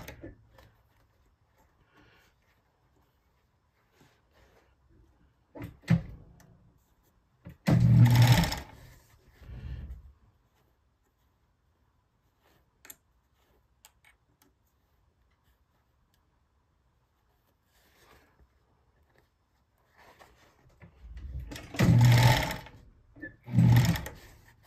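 A Bonis fur sewing machine stitching beaver fur gauntlets runs in a few short bursts with quiet gaps between, two louder stretches near the middle and end, close and alone without talk.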